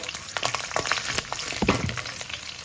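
Chopped green chillies and spices frying in hot oil in a pan for masala kaaram borugulu, a steady close crackle and sizzle with sharp spitting pops and no voices.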